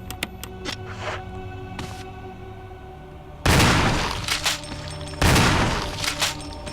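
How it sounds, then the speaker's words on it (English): Shotgun blasts in the video game Resident Evil REmake, two loud booming shots a couple of seconds apart, each with a lingering decay, over quieter game background sounds. "Let's break in this shotgun."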